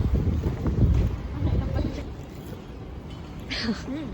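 Strong wind roars and buffets the microphone with a constant low rumble at an early-morning flower market in Taiwan, and faint voices can be heard beneath it.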